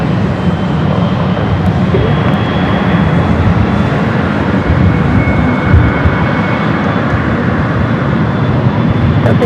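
A Southwest airliner rolling for takeoff on runway 24 left at LAX produces a loud, sustained jet engine roar, steady and dense throughout with no voices over it.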